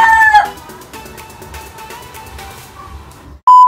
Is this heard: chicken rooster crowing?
yes